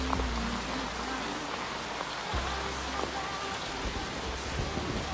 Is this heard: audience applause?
no